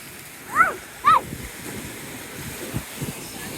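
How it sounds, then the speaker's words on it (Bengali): Rough sea waves surge and break on a beach, a continuous windy rumble of surf with a couple of sharp high cries near the start. "এখানে অনেক উত্তাল। উত্তাল বলতে নর্মাল শুধু ঢেউগুলো"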